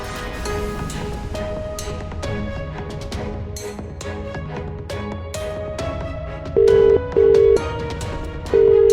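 Phone call ringing out unanswered: short electronic beeps repeat near the end over a bed of background music, three loud tones spaced evenly apart.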